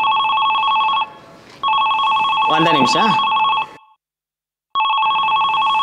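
A mobile phone's electronic ringtone repeats loudly in bursts. A person speaks briefly over a gap in the ringing, then the ring cuts out for a moment before starting again.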